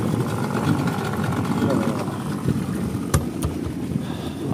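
A Yamaha 60hp outboard engine on a 21ft boat idles steadily and close by at the water's edge, a continuous low rumble with a few brief knocks, while people talk nearby.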